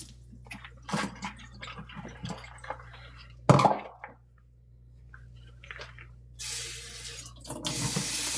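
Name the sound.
water running from a tap to wet a sponge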